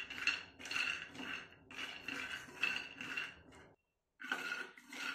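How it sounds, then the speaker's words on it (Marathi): Peanuts being stirred and dry-roasted on low heat in a kadai, a steady run of metallic scraping and rattling clinks, close and fairly loud, broken by a short pause before the stirring resumes. "याला आपल्याला कमी गॅसवर व्यवस्थित एकसारखं हलवत खरपूस भाजून"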